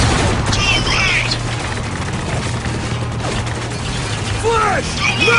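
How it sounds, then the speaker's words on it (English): Turret gunfire and clattering mechanical weapon noise in the video game Spec Ops The Line, with bursts of shots over a busy combat mix while voices shout. "Turret's got it locked down!"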